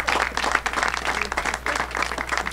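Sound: audience applause

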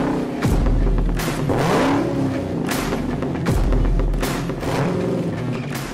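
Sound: Dodge Challenger SRT Hellcat Redeye engine accelerating

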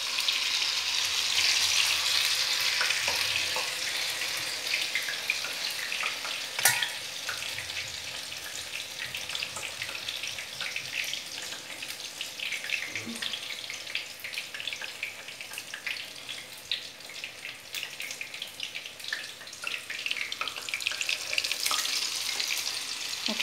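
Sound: pumpkin flower pakora frying in hot oil

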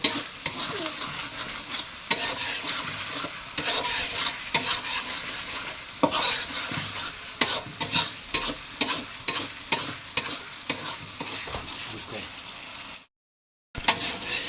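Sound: small local shrimp frying in oil

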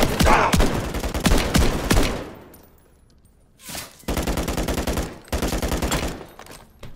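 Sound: gunfire in Modern Warfare 3 video game

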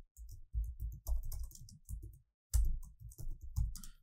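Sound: typing on a computer keyboard in Microsoft Word

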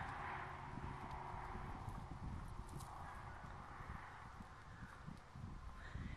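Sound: purebred Friesian foal walking on lead rope, hooves

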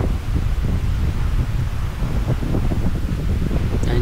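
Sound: strong wind at Hai Van Pass

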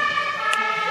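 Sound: emergency vehicle siren

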